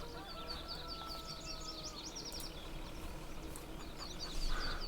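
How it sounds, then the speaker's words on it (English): Chickens on a Farming Simulator 22 farm, one perched by a water trough, give a run of quick, repeated clucks over a steady ambient hiss, with a louder burst near the end. "This chicken wants to hang out in the water trough here."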